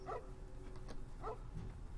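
A dog barks in the video game Fallout: New Vegas, two short yips spaced about a second apart over a steady low background hum.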